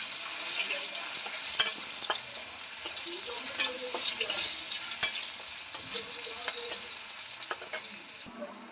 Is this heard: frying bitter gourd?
yes